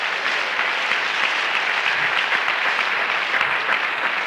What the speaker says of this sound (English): Clap your hands again unto the Lord.